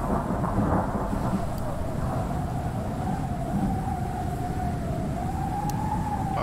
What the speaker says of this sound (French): Ah, il fait bon, mais j'ai entendu un orage.